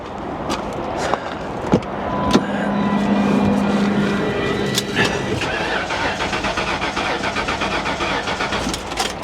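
A 1998 Ford Explorer V8 cranks on a booster pack, giving a rhythmic, rapid starter churn that grows steadier toward the end without firing, heard close with some clanks and bumps.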